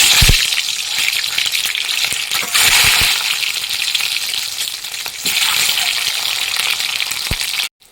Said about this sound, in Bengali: তেলটা গরম হয়ে গেছে এখন ডিমগুলো ছেড়ে